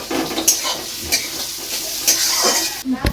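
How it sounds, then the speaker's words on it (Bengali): Cooked rice tipped into a pan of fried vegetables and stirred, with soft sizzling and scraping of a spoon against the pan in short, irregular strokes. "হ্যাঁ এবার দেখুন আমি ভাতটা দিয়ে দিচ্ছি এর মধ্যে"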